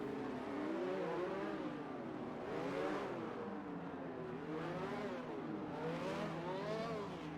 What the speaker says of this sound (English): Some little last minute revving heading on as the lights are getting ready to go